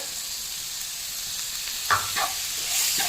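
Chopped tomatoes hitting a hot pan of powdered masala while making matar paneer bhurji, giving a steady soft sizzle with a few brief louder crackles and stirring scrapes near the end.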